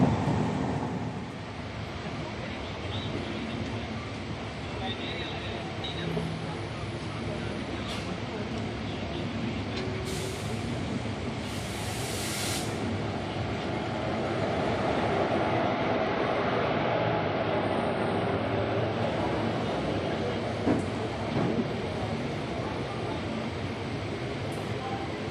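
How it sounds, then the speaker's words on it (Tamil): Steady, continuous rumble and rattle of the Coimbatore Intercity express train running slowly, heard from onboard as a constant low drone with faint clacks and wind noise throughout. "ஸ்லோவாக தான் ட்ரெயின் போயிட்டுருக்கு இப்போங்க."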